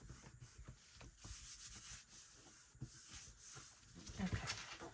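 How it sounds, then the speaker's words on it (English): Rubbing by hand to press down and stick folio material, a steady close scraping friction with short bursts, fairly faint and with no talk. "give that a good rub"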